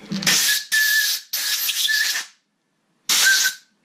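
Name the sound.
carb cleaner spray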